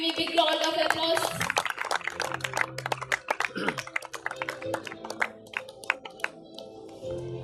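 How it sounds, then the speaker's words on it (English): An audience at a Model United Nations school ceremony breaks into applause, crisp individual claps scattered across a moderately sized crowd. The clapping starts dense, then thins into sparse, uneven hits toward the end, with some voices murmuring underneath. "Give him a big round of applause."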